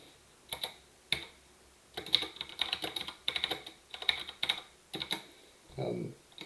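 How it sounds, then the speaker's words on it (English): Someone types on a computer keyboard while entering commands in the vi text editor, with bursts of clicky keystrokes in uneven clusters and pauses between them, heard up close with a brief low murmur near the end. "I'm going to type a little o"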